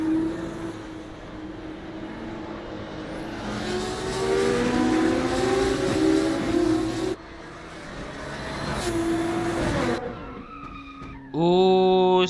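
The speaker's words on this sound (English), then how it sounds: "Oh, more drivers locking up." Race cars in a racing video game at the Buriram circuit roar past with whining engines, tires screeching as they lock up under braking, several cars in close succession, one loud pass near the end.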